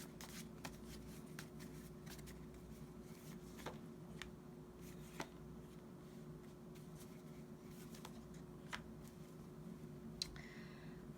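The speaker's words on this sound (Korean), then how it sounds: "제가 카드 3장을 좀 더 뽑아볼게요" Tarot cards are shuffled and drawn as a faint, soft rustle, broken by scattered light flicks and snaps over a low steady hum, with no voices.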